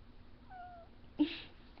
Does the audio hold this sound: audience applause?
no